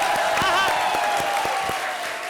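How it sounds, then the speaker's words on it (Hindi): A studio audience at a TV comedy show claps together in a dense, steady burst of applause, with a voice speaking over it. "जोरदार ताली बजाओ भी."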